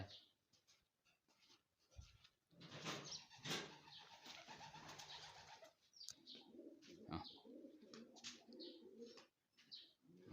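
Pigeons near farm machinery coo in low, soft, repeated murmurs while wings flap in a busy burst, then the cooing continues in rhythmic phrases, faint and at a middle distance.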